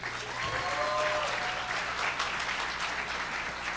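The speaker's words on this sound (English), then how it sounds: "Can we get another round of applause for our amazing Sharks?" Audience applause after a pitch competition for local entrepreneurs, moderate and steady, with faint tonal whistles or squeals early on and some crowd noise mixed in.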